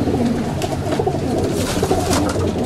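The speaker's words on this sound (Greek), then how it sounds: "είναι πιο όμορφα τα περιστέρια και καταφθάνουν συνέχεια" Racing pigeons arriving at the loft coo steadily, a dense overlapping chorus of soft, throaty calls close by, with faint rustling and no talk.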